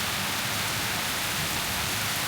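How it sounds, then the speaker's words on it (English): Heavy rain pours down in Paris on a Sunday, a loud, dense, continuous hiss of water with no pauses and nobody speaking. "a lot of rain."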